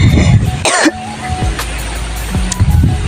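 A woman coughs and clears her throat a few times in short rough bursts outdoors at a rice farm during harvest, close to the microphone, with faint background noise.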